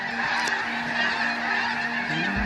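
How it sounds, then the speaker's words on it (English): A flock of geese honks over a softball field, loud, overlapping calls continuing steadily throughout with no talking. "A flock of geese suddenly took over a softball field"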